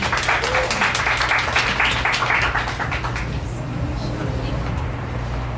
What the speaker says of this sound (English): Can we have a round of applause for Fariha?